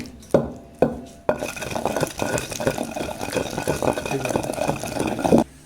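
A pestle pounds ripe red chillies and gongura leaves into a chutney in a mortar, two sharp thuds followed by a dense run of rapid knocking and grinding.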